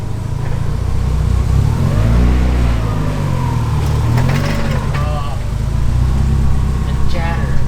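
A turbocharged Mazda Miata's engine drones and rises in pitch as it revs while driving, loud and close, with people talking over it.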